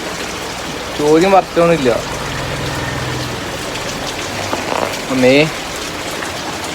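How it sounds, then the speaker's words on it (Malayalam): Heavy rain falls steadily as a constant wash of noise, with a voice speaking loudly over it at several points. "ഭയങ്കര മഴ."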